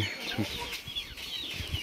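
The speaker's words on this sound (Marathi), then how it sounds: "गावरानी आणि असील क्रॉसचे पिल्ले आहे।" Gavrani and Aseel cross chicks on a Maharashtra poultry farm give soft, irregular clucks and high peeps, scattered and fairly close against quiet farm background.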